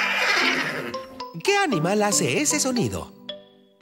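A zebra call, a sharp horse-like whinny with a rising and falling bray, plays in a children's animal-sounds video game, followed by a spoken question.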